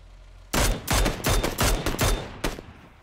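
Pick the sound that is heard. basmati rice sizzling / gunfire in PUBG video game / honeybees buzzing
gunfire in PUBG video game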